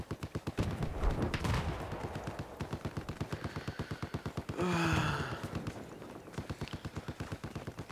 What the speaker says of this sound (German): wie hier die Schüsse einschlagen